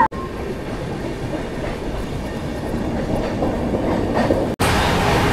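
Coromandel Express passenger train running at speed on rails between Andhra Pradesh and Tamil Nadu, a steady loud rumble with rhythmic clatter throughout, cut briefly near the end.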